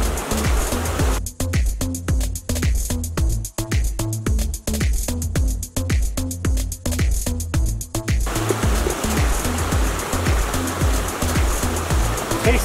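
Water rushes and splashes continuously and loudly through a portable hand-pumped water filter, with rapid rhythmic pumping clicks for several seconds before the flow carries on alone.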